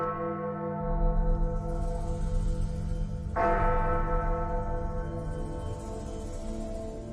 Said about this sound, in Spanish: se tocan 13 veces las campanas que allí se conservan